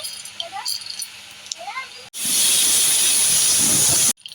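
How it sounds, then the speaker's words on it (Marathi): Cumin, mustard and fenugreek seeds hit hot ghee in a pan and set off a loud, harsh sizzle lasting about two seconds. A person talks just before it starts. "आता तूप छान तापलेलं आहे आता त्याच्यात टाकणार आहे जिरा आणि मोहरी त्याच्यासोबतच थोडेसे मेथीचे दाणे"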